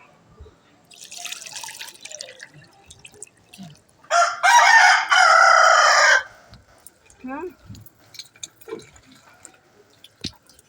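Water pours in a loud burst lasting about two seconds, while chickens cluck softly nearby and small scattered sounds come before and after.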